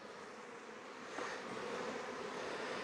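Honey bees buzz around hive frames in an apiary with a dense, steady hum of many wings that swells slightly partway through, with no voices.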